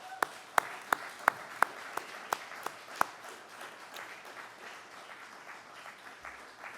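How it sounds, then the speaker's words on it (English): A graduation crowd bursts into applause, with a few sharp, loud claps standing out early before the clapping thins and fades over several seconds. "give them a round of applause"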